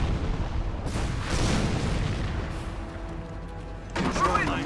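Mortar shell explosions in the Company of Heroes game, a couple of heavy booming blasts with rumbling tails over a continuous battlefield din, fairly loud.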